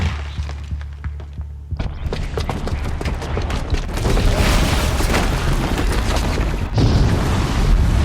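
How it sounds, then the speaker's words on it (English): A bomb's booby trap goes off in the video game Horizon Zero Dawn, with a low rumble that swells into a sustained, loud blast and debris roar, followed by a second surge near the end. "the booby trap on the bomb downstairs is gonna get set off"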